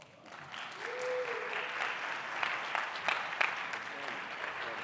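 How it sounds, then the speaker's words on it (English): Audience applause fills a conference hall after a morning presentation on AI in education at a summit, a steady, dense clapping that swells quickly, holds evenly, and stays fairly close and loud throughout. "let's give another round of applause for that outstanding presentation this morning here"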